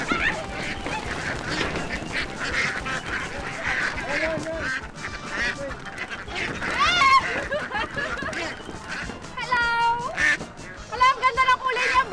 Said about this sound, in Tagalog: Ay mga itik, ready na ba kayo maging ulam?